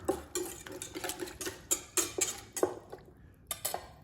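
Green onion, garlic, jalapeno and olive oil being mixed in a bowl, a quick irregular run of clinks and scrapes from a utensil against the dish, close and light, with a brief pause near the end.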